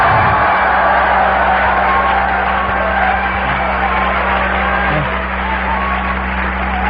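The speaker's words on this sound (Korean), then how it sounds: "자, 이번에는 함성과 함께 박수를 한번 해보겠습니다." A large audience at a Korean Nu Skin business seminar cheers and applauds together, a loud, sustained roar of clapping and shouting with a steady electrical hum underneath.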